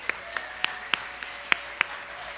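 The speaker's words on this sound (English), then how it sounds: "So give yourselves a round of applause." A handful of scattered, separate claps ring out from the audience at a music hall of fame induction ceremony in San Diego, with a faint steady tone underneath.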